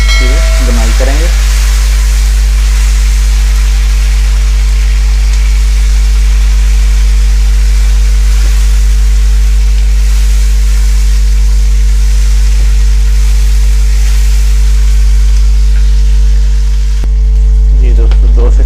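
Tomato fries with masala in a pan, a moderate continuous sizzle running beneath a loud, steady low hum for the whole stretch.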